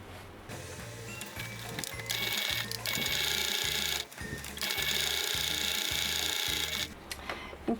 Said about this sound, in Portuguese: Nós vamos colocar direito com direito e passar uma costurinha apenas nessa parte aqui da bolsa, com um pezinho de máquina